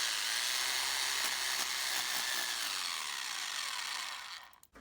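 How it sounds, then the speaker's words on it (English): A power drill bores bolt holes into a limestone shed wall, a loud, steady grinding whine running continuously close by for several seconds, then cutting off abruptly at the end. "I'm going to drill the rest of these holes"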